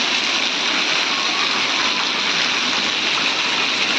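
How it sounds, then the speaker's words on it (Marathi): Heavy monsoon rain pours in a dense, even roar, loud and close, a constant wash of falling water with no pauses or voices throughout. "तर खूप सारा पाणी पडला आज."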